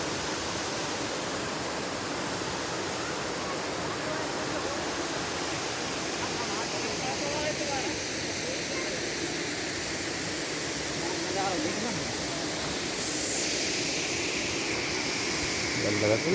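Water pours at the Pandav Van Dham waterfall in a dense, unbroken roaring rush that holds an even level from start to end.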